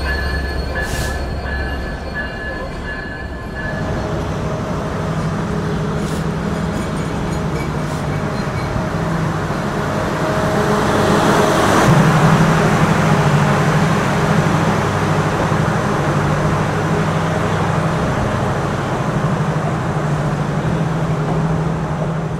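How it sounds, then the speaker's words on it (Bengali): The Chitra Express, a down train from Dhaka bound for Khulna, pulls into a station at night running an hour late, with a loud, continuous rumble of wheels and carriages that swells midway as it rolls close past, along with a steady mechanical hum. "নির্ধারিত সময় থেকে 1 ঘন্টা 3 মিনিটের বিলম্ব নিয়ে প্রবেশ করছে ঢাকা থেকে ছেড়ে আসা খুলনা অভিমুখী ডাউন চিত্রা এক্সপ্রেস"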